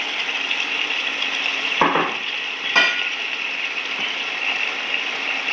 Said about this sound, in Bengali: এখন ভাজা মাছটা আমি দিয়ে দিলাম।